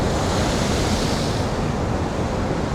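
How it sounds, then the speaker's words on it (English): Stormy ocean waves crashing on a Bali shore, a continuous loud roaring surf with heavy rumble and wind buffeting the microphone, no voices. "Look at these waves crashing on the shore here."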